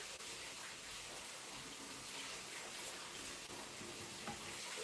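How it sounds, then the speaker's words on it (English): A kitchen tap runs steadily while the water warms, a soft continuous hiss of flowing water that holds even for several seconds, with no talk. "I'm just gonna let the water run for a minute, Max, so it warms up a little bit"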